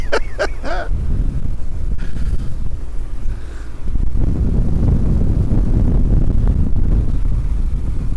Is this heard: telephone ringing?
no